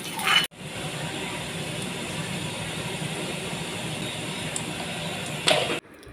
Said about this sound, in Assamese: বেকগ্ৰাউণ্ডত যে এটা শব্দ হৈ আছে, সেইটো আচলতে চিমনিটো অন হৈ আছে